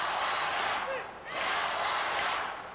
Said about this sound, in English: The whole crowd there just shouting for Tamura